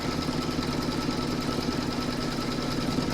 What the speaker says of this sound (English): I'm now going to pop my hoop back into my machine and stitch round number 13 to secure the backing fabric